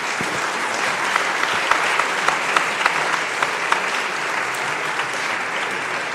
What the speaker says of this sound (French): On peut peut-être à nouveau applaudir les orateurs.